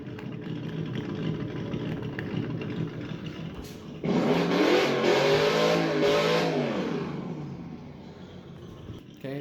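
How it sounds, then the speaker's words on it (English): A 1:10 Jeep Wrangler RC crawler with simulated engine sounds: a low engine rumble that rises sharply into a loud revving burst midway, then settles back down toward idle. "one of y'all on your phone sits there and makes the engine noises"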